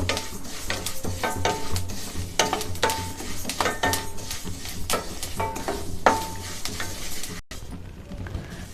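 Sesame seeds roasting dry in a pan, stirred steadily with a utensil: a continuous close sizzle and rustle broken by repeated sharp scraping strokes against the metal, with no talking.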